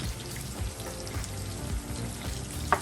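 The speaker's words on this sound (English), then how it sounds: "I wish you could smell the steak that's cooking in here and these onions." Steak seasoned with black pepper frying alongside onions in a pan, a continuous close sizzle and crackle with a few louder pops, no talking.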